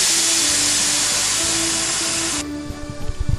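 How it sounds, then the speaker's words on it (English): A steam traction engine gives a loud, steady hiss of escaping steam for a couple of seconds, then cuts off abruptly, leaving low mechanical rumbles and knocks. "Firebox temperatures are rising and the steam pressure is starting to look good."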